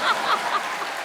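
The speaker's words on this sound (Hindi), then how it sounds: "अब ज्यादा तालियां अर्चना जी के लिए बजाइए" A studio audience on a comedy show claps for Archana ji, a dense, continuous patter of hands that stays fairly even through the short stretch.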